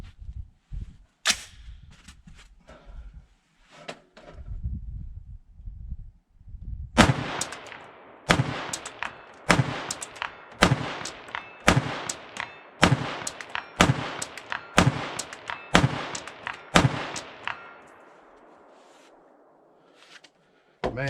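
Daniel Defense M4 V7 PRO rifle fired off a bench at a 200-yard steel plate: a couple of early shots, then about a dozen sharp, loud cracks at a steady pace, each with a short echoing tail.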